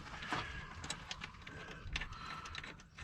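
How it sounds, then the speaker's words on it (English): Faint, close ratcheting clicks come in short runs as four bolts are tightened during brake work on a 1959 Edsel Ranger, with low background noise throughout. "he's putting the 4 bolts in it."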